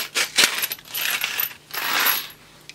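Crystal oscillators rattle and clink inside a package in several short shaken bursts, close and fairly loud with brief pauses between.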